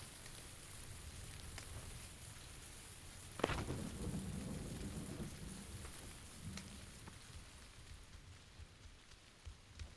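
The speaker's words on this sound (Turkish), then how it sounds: "Abi yağmur sesinden adamı duyamıyorum ki." Steady, heavy rain hisses throughout in PUBG, with a sudden crack and rolling rumble of thunder partway through.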